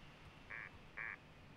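Two short, nasal duck quacks sound in quick succession against a quiet background.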